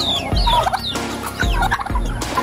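Chickens in a rural Philippine farmyard, loud close clucking and squawking calls repeating in bursts with low thumps between, no talk.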